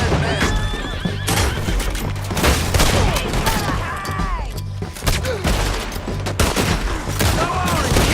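Rapid bursts of gunfire ring out in a Wild West shootout in the video game Red Dead Redemption 2, mixed with loud horse whinnies and clip-clopping hooves throughout.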